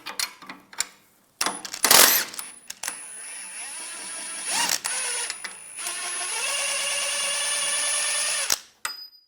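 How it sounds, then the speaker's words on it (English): Close-range power tool work on the rear suspension of a 1998-2010 Volkswagen Beetle during a coil spring replacement, removing a nut and bolt: short bursts of an impact driver with clanks, then one long steady whirring run before it cuts off. "Take the nut off. Take the bolt out. Do the same on the other side."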